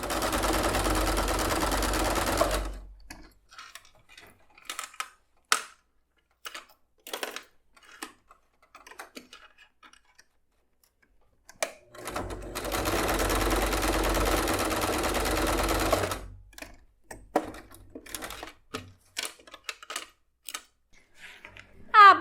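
Sewing machine stitching another seam on a zippered fabric bag: two sustained runs of rapid, even mechanical whirring, separated by quiet stretches of light handling clicks and fabric shuffling.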